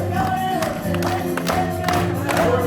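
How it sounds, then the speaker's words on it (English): A keynote audience claps along in rhythm to a song playing loudly at a business conference, with crowd noise and music blending into a steady, dense wash. "So I want you to follow along here. Let's get the music going. All right, so clap, clap, clap."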